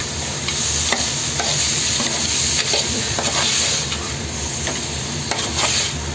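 Paneer vegetable curry stirred in a pan, giving a steady close scraping and soft sizzling with faint spoon knocks that run throughout, with no talking.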